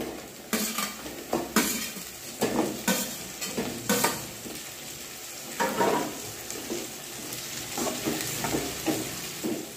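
Onions and dried curry leaves fry in a pan for a fish curry, with a spoon repeatedly stirring and scraping the metal pan in an uneven rhythm over a steady close sizzle, no talking.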